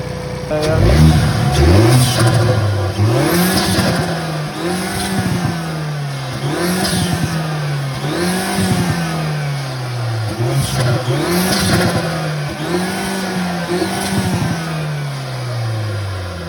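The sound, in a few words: car engine revving with induction kit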